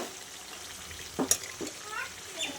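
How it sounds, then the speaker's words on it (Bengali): Meat and potatoes fry in a pan under a low, steady sizzle, with a few soft scraping stirs of a spoon and one sharper clink near the middle. "আলুগুলো দিয়ে আর একটু নাড়াচাড়া দিয়ে"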